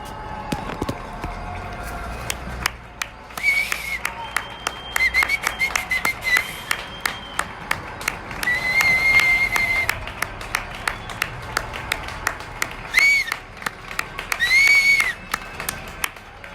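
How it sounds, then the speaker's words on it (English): One person clapping and whistling at once, sharp hand claps in an irregular rhythm under bright whistled notes, close and fairly loud in a live music setting. "Clap and whistle at the same time."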